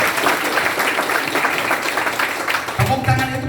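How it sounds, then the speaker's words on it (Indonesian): A seminar audience claps loudly in a dense, continuous burst that fades near the end, where a voice starts speaking over the last of the clapping. "Aplaus yang luar biasa lah."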